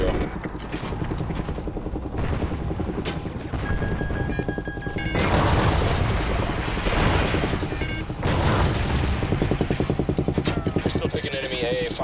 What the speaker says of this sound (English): Setting up for missile shot.